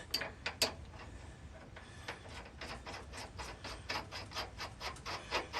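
A nut being snugged down on a Nissan Frontier leaf spring, heard as a quick series of faint, rhythmic ratcheting clicks from a hand tool, close by and without talk.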